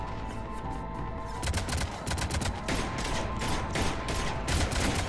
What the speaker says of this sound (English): I like the sound of her gun